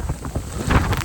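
Strong wind during a snow storm roars and buffets loudly across the microphone in uneven gusts, a continuous blustery rush with low thumping bursts.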